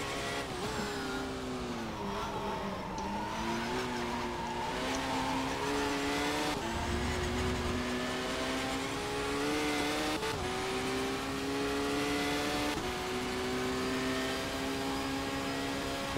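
Race car engine from the Race 07 video game, held at a steady high drone with rising and falling pitch as the driver shifts and lifts slightly, loud and continuous throughout with no talking.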